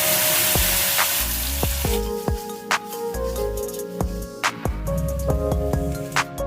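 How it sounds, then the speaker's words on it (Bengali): Tomato puree poured into hot oil with asafoetida and ginger paste for a homemade pizza sauce sizzles loudly and continuously, broken by several sharp spoon clinks against the pan. "আদা নাড়াচাড়া করে টমেটো পিউরিটা ঢেলে দিলাম।"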